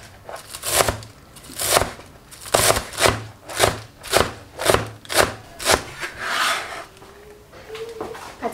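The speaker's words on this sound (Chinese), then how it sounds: "然后再把准备好的韭菜切成碎末" A kitchen knife chops Chinese chives into fine pieces on a cutting board, about ten rhythmic rasping strokes close by, then softer scraping near the end.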